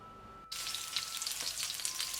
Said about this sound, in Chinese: 锅中油热，爆香葱姜蒜